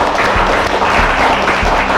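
Onlookers at a live stage show clap for two young participants in a short, busy burst of hand clapping with a low murmur of voices underneath.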